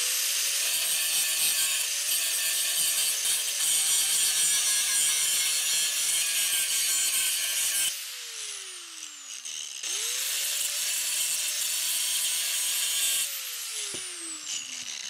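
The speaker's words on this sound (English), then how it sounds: "I'm just gonna grind the rough edges off." An angle grinder works rough weld edges off a home-welded exhaust pipe, a loud continuous high-pitched grinding whine that pauses and spins down twice before starting up again.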